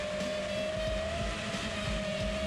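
A racing drone flies low over the ground, its motors giving a steady, continuous high whine over a rough rumble, with no pause and no talk.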